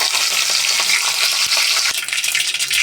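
Curry leaves and mustard seeds fry in hot oil for barbati curry, giving a loud, constant, close crackling sizzle with a few sharp pops and no voices.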